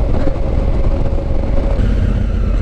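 A Honda CRF1000L Africa Twin motorcycle drones steadily at cruising speed on a road in Slovenia, its engine hum loud and continuous under heavy wind rush.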